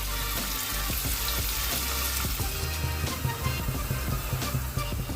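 Curry leaves with dried red and green chillies sizzle in a hot oil tempering for dal khichdi, a dense, close, continuous spitting crackle with rapid pops throughout and no speech.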